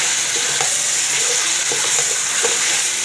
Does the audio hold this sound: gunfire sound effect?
no